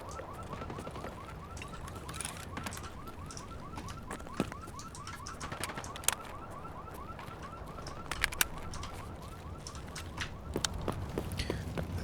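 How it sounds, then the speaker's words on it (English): A looping electronic alarm warbles steadily in the Escape from Tarkov video game, a repetitive rising chirp pattern sounding at moderate distance alongside footsteps and occasional sharp clanks. "just like the alarms going off"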